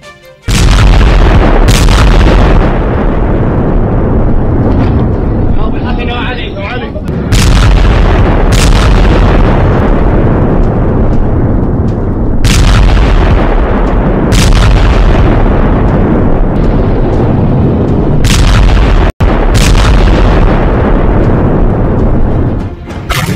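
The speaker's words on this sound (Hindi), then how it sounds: "शांत पड़े इलाके में अचानक एक जोरदार धमाका होता है" Repeated heavy booming blasts from an air strike in Syria, about five deep explosions each followed by a long rumbling roar, loud and continuous without speech.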